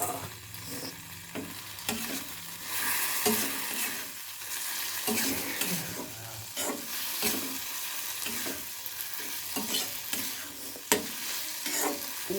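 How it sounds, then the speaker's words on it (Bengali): Potatoes frying in a pan with soy sauce, stirred with a spatula in repeated scraping strokes over a steady close sizzle, with no talking. "দিয়ে দেবো সয়া সস, দিয়ে দেবো ভেজে রাখা আলু।"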